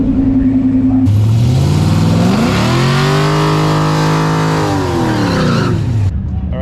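Ferrari F8 Tributo accelerating hard, a loud high-revving engine climbing steeply in pitch, tapering off and fading over about five seconds.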